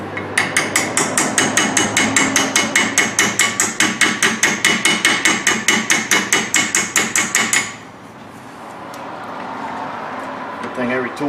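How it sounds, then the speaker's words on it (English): A hammer strikes steadily at a fast, even rhythm, dozens of loud metallic blows while a cotter key is fitted during Kia Sportage rear wheel bearing work, then stops, leaving quiet room noise. "Got a hammer."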